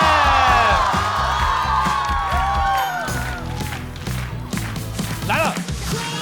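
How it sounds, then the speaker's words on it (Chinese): A studio audience at a comedy variety show breaks into cheering and whoops along with applause as a guest is welcomed, while a voice rises over the crowd. The noise is loud at first, then fades and becomes scattered. "掌声欢迎小庆天"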